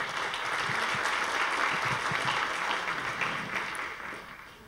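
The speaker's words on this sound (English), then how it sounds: "A warm round of applause, please." An audience at a forum session applauds as Ethiopia's State Minister of Finance and Economic Cooperation is introduced, with a steady patter of clapping that holds, then thins and fades toward the end.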